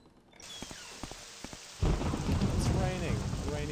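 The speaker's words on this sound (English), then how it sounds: "It's raining. A rainy day near the Ghost Gate." Rain and rolling thunder in the Morrowind game world near the Ghost Gate: steady rainfall with scattered drip taps, then a loud thunder crash that swells into a heavy, continuous downpour roar.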